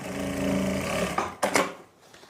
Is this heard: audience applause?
no